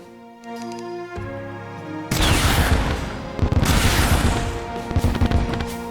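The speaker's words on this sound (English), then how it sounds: "fires a burst of 4 fueled air rockets, which explode into cluster bombs" Terraria Calamity launcher firing bursts of four fuel-air rockets that burst into cluster bombs, loud rumbling explosions rolling in waves after a calm musical start, with backing game music beneath the blasts.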